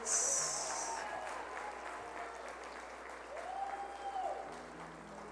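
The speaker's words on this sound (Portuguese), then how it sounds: "Pode aplaudir mais forte a Jesus." A church congregation applauds in steady, continuous clapping that fills the room at moderate distance, with faint voices mixed in.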